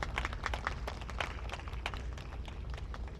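Audience applause at a 2024 memorial ceremony at the Daegu prison, following a poet's reading of a poem: steady, moderately distant clapping from a crowd with scattered sharper claps, continuous throughout without speech.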